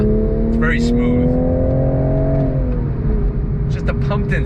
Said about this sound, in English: the exhaust, you heard it, it sounds really, really good